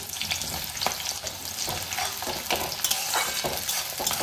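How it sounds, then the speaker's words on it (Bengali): Chopped onions hit hot oil in a pan already holding fried cardamom and cinnamon for Bengali-style ghugni, giving a loud, steady sizzle and crackle throughout with occasional stirring scrapes and no voices. "আমি দিয়ে দিচ্ছি পেঁয়াজ। আমি যে পেঁয়াজ কুচো করে নিয়েছি সেই পেঁয়াজগুলো দিয়ে দিচ্ছি।"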